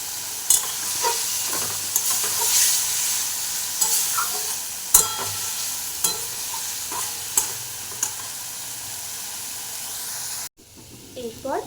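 Tomatoes tipped into a hot pan for a chicken stew sizzle steadily, with a spatula repeatedly scraping and stirring. A few sharp clinks break in before a brief cut, and then softer sizzling follows.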